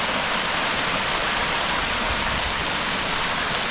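Himalayan waterfall swollen by the monsoon on the road to Lava in North Bengal, a steady, dense roar of rushing water close by, continuous and loud with no voices.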